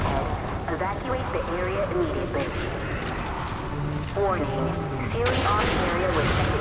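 Rifle gunfire in the video game Resident Evil 5: sharp shot transients scattered across the clip amid a busy game soundtrack, with tonal music and effects running throughout.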